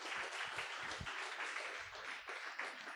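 Crowd applause at a campaign event for a Labor Commissioner candidate: steady, dense clapping from an audience, sustained and moderately loud throughout.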